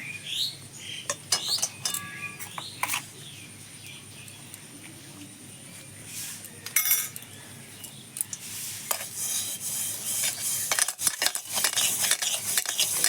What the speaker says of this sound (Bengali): এই কড়াইও যদি এই পাউডার দিয়ে পরিষ্কার করে মাজা হয় এই জলটা দিয়ে আমি কড়াইটা একটু পরিষ্কার করে দেখাবো